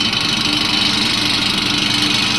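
Induction motor running steadily at its rated 1500 RPM, giving a constant close mechanical hum and whir with no variation and no voices.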